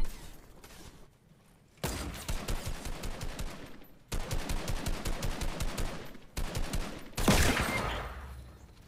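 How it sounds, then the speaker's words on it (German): Gunfire in the Fortnite video game, with a revolver shot sound heard among repeated loud bursts of rapid shots separated by short pauses, ending in a sharp crack. "Warum kam da der Revolver-Sound?"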